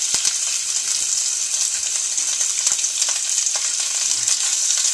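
Onions, garlic and andouille sausage frying in olive oil, a dense, steady hiss of sizzling with occasional small clicks and stirring scrapes, close and continuous with no talk.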